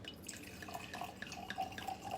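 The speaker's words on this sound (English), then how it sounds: "I'm going to pour a little bit first." Russian River Valley Pinot Noir from Wohler Vineyard pours into a glass in a small, close, steady trickle with light drips and splashes, with no talking.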